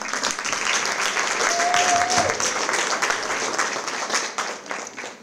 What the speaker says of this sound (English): One more round of applause to Vila Madalena.